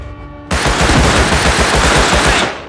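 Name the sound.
gunfire in Rust Console Edition video game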